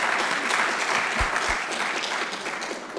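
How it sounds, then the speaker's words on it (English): Audience applause welcoming a speaker named Georgia at an Agile Auckland meetup, a steady dense clapping from a crowd that fills the whole stretch with no voices over it. "if we could just give a round of applause for Georgia and welcome her to speak"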